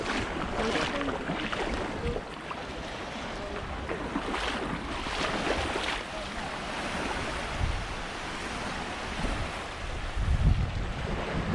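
Waves washing onto a beach in Grand Cayman during a morning walk, a steady rushing surf with wind buffeting the microphone and a louder gust near the end, no talk.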